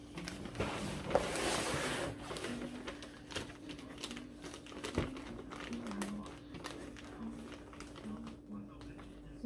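Gift wrapping paper being folded around a present for Christmas, with bursts of crinkling and rustling paper close up, loudest early on, while a person talks throughout.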